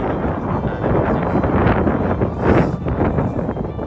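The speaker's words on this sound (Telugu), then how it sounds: "గాలి భయంకరంగా తోలుతుంది" Strong wind roars continuously across the microphone at Vanajangi viewpoint in the hills, loud and buffeting, with no voices.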